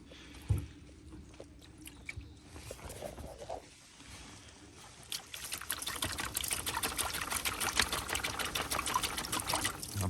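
Water pours and trickles in a bucket as the soil-packed root ball of a six-year-old seed-grown hazelnut tree is washed off during repotting. Quiet splashes come first, then a steadier, louder wash of water runs continuously through the second half.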